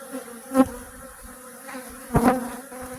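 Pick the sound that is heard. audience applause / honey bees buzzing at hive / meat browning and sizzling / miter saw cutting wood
honey bees buzzing at hive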